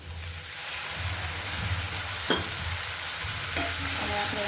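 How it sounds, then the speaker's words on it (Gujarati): Red chili powder, turmeric, cumin and a little water stirred in a hot pan for Maggi, a close sizzling hiss with scraping stirring strokes and a few light clinks, no talking. "અને આપણે આ રીતે હલાવી લેવાનું છે થોડીક વાર સુધી"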